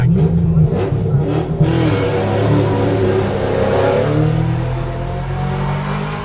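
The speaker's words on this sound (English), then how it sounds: "launches the V8 Starion off the start line, all 6 litres heading Wonderful. towards the top of the hill. A wonderful sound." Six-litre V8 Mitsubishi Starion rally car launching off the start line at a forest rally sprint, a loud revving roar that settles into a sustained engine drone heading up the hill, with a commentator talking over it.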